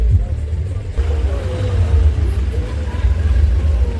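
Traffic passes along a busy road near Munnar, a continuous low rumble of engines close by with faint voices mixed in.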